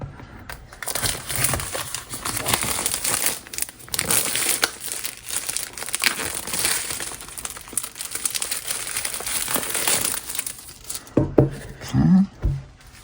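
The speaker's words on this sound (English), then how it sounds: "So let's just cut this film off here." Plastic film being cut and peeled off the packaging of a Crave Curve portable Bluetooth speaker, a steady close crinkling and rustling that runs for about eleven seconds before a few brief handling knocks and a short voice.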